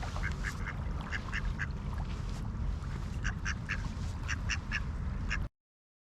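A duck quacks repeatedly in short bursts by a lake in Jonkoping's city center, with steady rumbling wind or water noise underneath the whole time.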